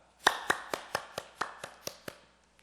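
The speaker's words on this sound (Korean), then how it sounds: "우리 축하의 박수 하겠습니다." A small church congregation clapping together for a birthday, about nine distinct, evenly spaced claps in a steady rhythm, close and clear in a quiet room, fading out at the end.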